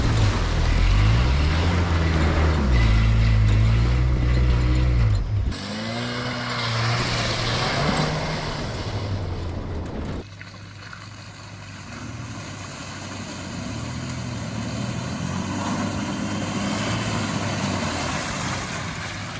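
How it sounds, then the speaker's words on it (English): Vehicle on the Florida Gambler 500 driving into a mud puddle and floating, a loud low engine drone with splashing and sloshing water, then a quieter churning rumble with wind noise. "I just kind of drove straight into a mud puddle. So we're just kind of floating here."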